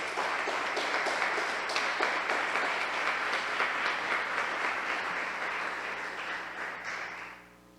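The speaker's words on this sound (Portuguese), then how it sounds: "Aplaude a Jesus." A church congregation applauds in a dense, sustained wave of clapping for several seconds. The clapping fades out at the end.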